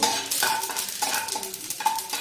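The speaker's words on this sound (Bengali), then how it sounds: "জাস্ট 15-20 সেকেন্ড এই জিরেটি ভেজে নেব।" Cumin seeds and dried red chillies frying in hot oil, a bright close sizzle broken by repeated spatula scrapes and clinks in a loose rhythm.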